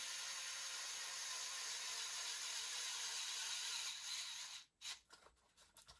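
A Wiha Speed-E electric screwdriver spins with no load, giving a steady, faint, high mechanical whir for about four and a half seconds, followed by a few short clicks and rattles as it stops.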